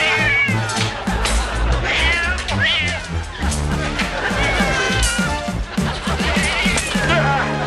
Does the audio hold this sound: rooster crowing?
no